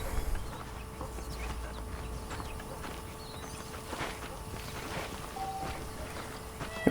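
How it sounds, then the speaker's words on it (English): Saddled horses clip-clop in a Western town in Red Dead Redemption, a scattering of soft hoof knocks over a steady outdoor ambience, fairly quiet and distant, with no one talking. "The horses are saddled up over here."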